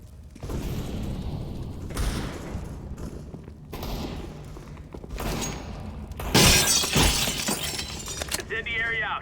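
Incendiary grenade in a video game shattering and bursting into a loud crackling roar, arriving suddenly after stretches of noisy gunfire-like bursts, with voices talking throughout.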